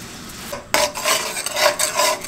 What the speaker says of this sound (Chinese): 锅底上点油，开始炒糖色